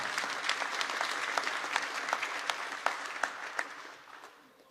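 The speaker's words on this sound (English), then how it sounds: "give yourselves a round of applause for getting this legislation passed" Crowd at a bill-signing event applauds, a dense patter of many hands with a few sharp standout claps, holding steady before fading toward the end.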